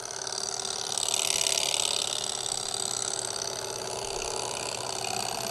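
A small Stirling engine runs on fuel tablets at about a thousand RPM, giving a faint, steady mechanical whir and light ratcheting hum that holds evenly throughout.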